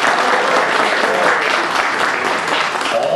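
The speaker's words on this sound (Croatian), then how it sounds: "Jedan aplauz za našu dragu televiziju." Audience applause at a live New Year's show, a steady wash of clapping from a crowd that holds at full strength for about three seconds with no speech over it.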